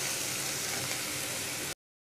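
Sliced onions fry with turmeric in hot oil in a pan, giving a steady, dense sizzle that runs unbroken for under two seconds before cutting off, close and even, with no voices.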